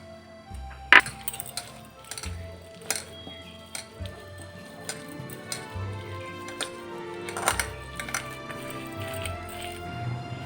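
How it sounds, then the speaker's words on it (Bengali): Boiled potato being mashed through a utensil for a chop recipe, with scattered soft knocks and clinks of the tool against the bowl, irregular and close, with no speech over it. "আলুটা এবার ডুমুরের মধ্যে দিয়ে স্ম্যাশ করে নেবো"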